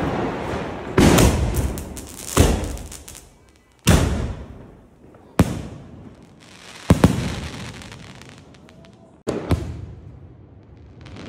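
Diwali fireworks shots bursting one after another, about six loud sharp bangs spaced a second or two apart, each followed by a crackling, fading tail, with brief voices in between.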